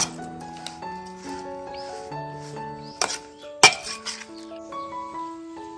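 Karvanda wild berries being mixed in a bowl for pickle, giving a few sharp metallic clinks and scrapes, mostly in two bursts, close by, over a background of sustained tonal music.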